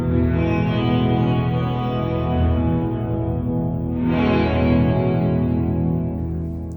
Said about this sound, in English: they have the twin adjustable pitch shifters, because then you can create kind of like chordal weird things